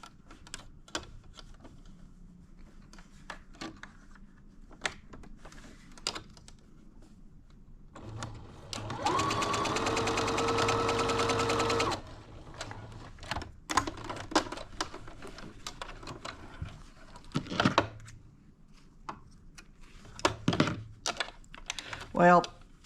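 A sewing machine stitches crazy quilt fabric for a jacket in one steady, loud burst of about three seconds, surrounded by quieter clicks and handling noises of the fabric.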